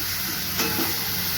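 Pumpkin sautéing in a pan, a continuous soft sizzle with a faint stir scrape partway through, close and steady with no talking.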